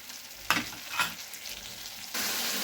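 Ginger and tomato spice paste with ground cumin, coriander and turmeric frying in a pan, a steady close sizzle broken by two sharp stirring scrapes, then jumping to a louder, brighter hiss near the end; no talking.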